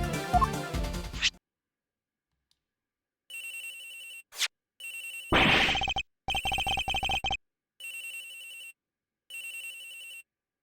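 Electronic telephone ring in the Ace Attorney Investigations: Miles Edgeworth video game, a repeated trilling ring in evenly spaced bursts with brief pauses, clear and steady after a short opening sound.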